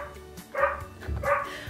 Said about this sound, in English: Here's what a dog sounds like.